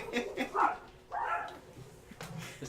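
Two dogs in a room making short barks and whiny yelps in two bursts, close by, with a faint voice underneath.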